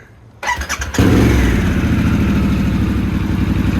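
A Harley-Davidson Sportster S motorcycle cranks and fires up, then settles into a steady, loud, rumbling idle close by.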